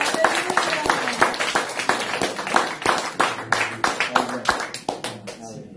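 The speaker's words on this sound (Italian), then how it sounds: "Un forte applauso." Sharp, uneven handclaps ring out from a church congregation during a missionary pastor's visit in Rossano, Calabria, the claps distinct and close, mixed with voices and tonal sound in the background.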